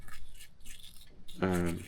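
Scrubbing a winch with a paint brush whose bristles have been cut short, a brisk, close scratchy brushing that continues steadily, with a voice briefly speaking over it near the end.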